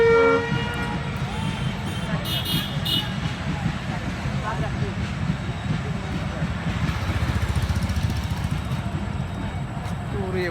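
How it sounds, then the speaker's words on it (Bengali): Train arriving at Pabna from Rajshahi, a low rumbling clatter of rolling wagons building steadily nearby, with brief horn blasts early on and a person talking over the passing train. "রাজশাহী থেকে আগত 6:30টার ট্রেন চলে আসতেছে পাবনাতে।"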